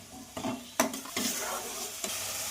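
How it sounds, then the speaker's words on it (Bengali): Spices being stirred and fried in hot oil for a chicken curry, with steady sizzling under a few sharp scrapes and clinks of a spoon against the pan, close and alone without talk. "এবার মশলাগুলোকে ভালো করে নেড়ে চেড়ে কষিয়ে নেব যতক্ষণ না তেল ছেড়ে দিচ্ছে"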